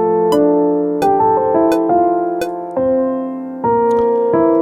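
Dry, unprocessed piano from an Indian fusion song mix without EQ, playing a series of sustained chords with distinct attacks every half second or so, clear and alone.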